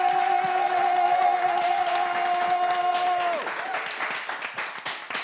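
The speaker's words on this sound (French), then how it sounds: "Je veux vraiment que vous vous applaudissiez" An audience claps and applauds steadily at a live French comedy show, with a sustained tone from a sound system fading out midway while the clapping continues.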